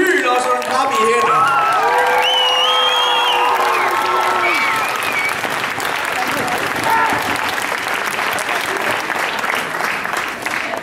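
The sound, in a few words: audience applause and cheering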